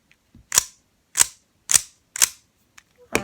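New speed Rubik's Cube being turned, five sharp plastic clicks spaced about half a second apart, crisp and close with silence between them.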